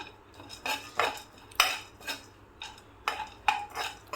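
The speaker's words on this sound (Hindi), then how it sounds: "और इसको हल्का सा रोस्ट होने तक इसमें चलाते रहेंगे।" Dry fruits stirred in a kadai with a little desi ghee, a sharp metal spoon scraping and clinking against the pan in irregular strokes, close and clear with no voices.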